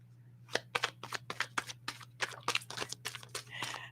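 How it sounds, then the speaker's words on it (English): A deck of cards is shuffled in a series of quick, close riffling bursts, about a dozen crisp flutters in a loose rhythm, followed by a longer riffle at the end. "one more shuffle like this"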